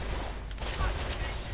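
Gunfire from a multiplayer match of Call of Juarez The Cartel, a dense burst of shots over steady game noise with voices underneath.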